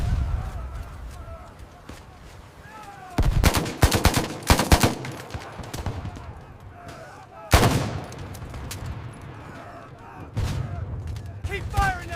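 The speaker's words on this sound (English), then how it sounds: "We got machine gun fire on the left!" Machine gun bursts and rifle fire crackle across a D-Day battle on Omaha Beach, with loud volleys around the middle and again later over a constant din of combat, while voices shout throughout.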